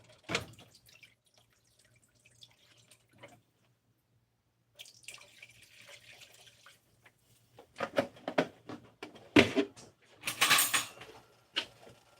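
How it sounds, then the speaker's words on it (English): Small amount of water being added to a protein shake mix, heard as scattered drips and splashes, with a quiet gap midway and louder pouring and liquid bursts toward the end. "Now what you want to do is a little bit of water in there."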